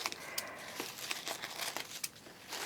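Excess paper or cardboard being trimmed off a handmade snowman piñata, with steady crinkling and rustling interrupted by brief snipping and tearing sounds, close and quiet with no talking.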